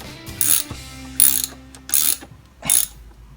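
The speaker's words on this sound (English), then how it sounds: "we're using a 14mm to tighten her up" A 14mm socket ratchet tightens a fastener on an SSR 125 pit bike during assembly, giving four bursts of clicking pawl strokes spaced under a second apart, close and fairly loud, with no talking.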